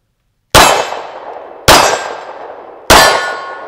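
A TISAS 1911 Stingray Carry pistol fires three loud, sharp reports at an outdoor range, evenly spaced with ringing decays and no talking.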